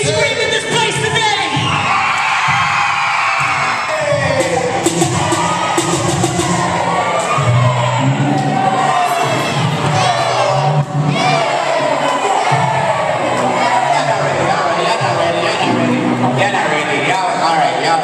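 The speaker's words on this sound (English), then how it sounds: "Pioneers, let me hear you scream in this place today." A large crowd of young people at a school tour event screams and cheers loudly and continuously, with shouts and whoops rising throughout, close and dense.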